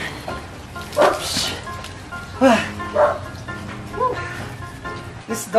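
Short barks and whimpers from dogs nearby, bathing in a koi pond, come in scattered bursts while a person speaks over them.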